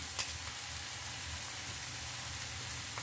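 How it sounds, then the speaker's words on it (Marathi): Coriander seeds, roasted cumin, roasted sesame and dried coconut sautéing for Kolhapuri masala make a continuous, even frying sizzle, close and steady throughout. "धने, भाजलेले जिरे, भाजलेले तीळ आणि सुकं खोबरं छानपैकी असं परतून घेऊया आपण"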